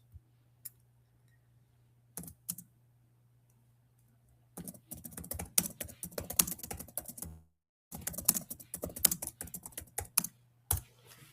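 Bursts of rapid typing on a computer keyboard, close and clicky, separated by pauses and scattered single key taps, over a low steady hum.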